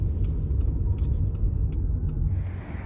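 A car being parked, heard as a low, steady engine and road rumble with a few light ticks and clicks on top, fading slightly at the end.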